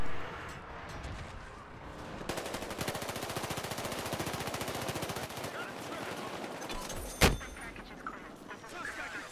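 Rapid automatic gunfire in Battlefield Hardline, a fast steady rattle of shots lasting several seconds with a sharp single crack near the end. Game ambience sits underneath.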